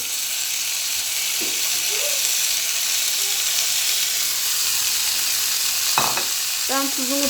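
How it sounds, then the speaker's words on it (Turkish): Steady dry sizzle of thin vermicelli and rice toasting with salt in a pan, constant and close, with a few scraping stirs and clinks of a spoon against the pan. "Tuzumla birlikte güzelce kavuruyorum şimdi pirinçlerimi"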